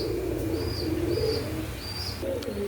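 Pigeons coo softly and repeatedly in a loft of fancy breeding birds, with faint chirps overhead and a steady background hum.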